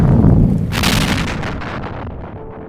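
A single heavy detonation booms out at full loudness, then rumbles and crackles as it fades over the next two seconds, an explosion effect in an AI-made drama with no talking.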